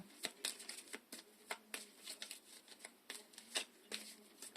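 Oracle cards shuffled by hand in a run of quick, close, crisp riffling flicks with short pauses between bursts, quiet and with no voices over them.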